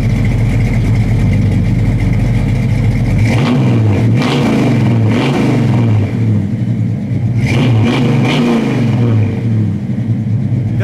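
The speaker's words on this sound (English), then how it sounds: "That's a full exhaust. I mean, this thing sounds awesome." A 1971 Chevy Nova with a full exhaust revs loudly up close, its engine surging in several swells and falling back to a rumbling idle, with no talking.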